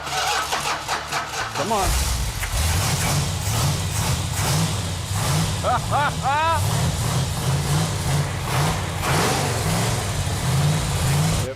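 A 1969 Dodge Super Bee with a 440 Six Pack V8 and four-speed cranks and fires, then settles into a loud, steady, lumpy idle close by, with a voice urging it on over the engine.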